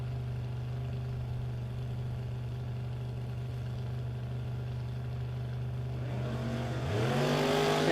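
A drag race pits a baby blue 1980 Chevrolet Malibu against a 1967 Chevelle, with a steady low engine drone at idle that swells near the end into a loud, rising rev as the cars launch.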